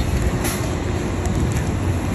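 A train at Shimodate station on the JR Mito Line, a steady rumbling roar with faint high squeals on top, continuous and fairly close for the whole stretch.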